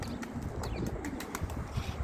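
Soft, low cooing from a pigeon in a loft, faint and somewhat distant, repeating in short murmurs over a steady background hiss.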